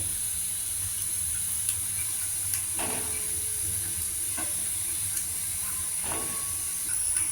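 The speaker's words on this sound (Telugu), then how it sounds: "ఈ కట్ చేసుకున్న వంకాయ ముక్కల్ని నూనెలో వేసి మగ్గించుకోవాలి" Cut brinjal pieces cooking in a little hot oil give off a steady, even hiss, with a few faint spoon scrapes every second or so and no voices.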